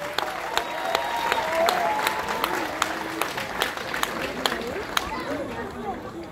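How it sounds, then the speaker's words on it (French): Audience at a speech for an inauguration at a tower on Marie-Galante applauding steadily, with sharp individual claps standing out, while voices murmur and speak underneath throughout. "Et je vous demande de les applaudir bien fort."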